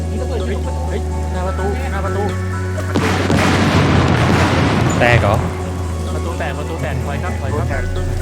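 Gunfire booms through a roleplay video game set on a city wall, arriving as a loud burst of shots and blasts in the middle of the stretch over a steady low game drone.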